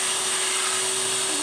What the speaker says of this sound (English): look, just a regular old vacuum cleaner